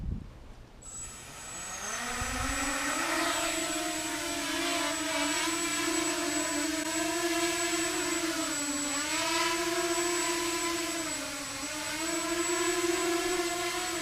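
A Walkera Runner 250 quadcopter drone spins up and lifts off, its motors rising into a loud, steady high-pitched whine that wavers in pitch as the throttle shifts, heard close by and alone.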